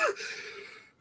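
A single sharp sneeze bursts out close by, followed by a brief fading breathy tail.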